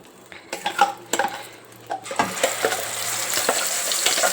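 Masala paste of ground onion, cashew and tomato, for an egg masala gravy curry, hits hot oil and sizzles steadily, with stirring scrapes and the clink of a utensil against the pan building through the clip.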